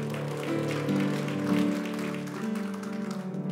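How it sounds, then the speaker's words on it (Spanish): Church congregation applauding for Christ, a soft, fairly distant clapping crowd under sustained tonal music from instruments. "Dele ese aplauso fuerte a Cristo"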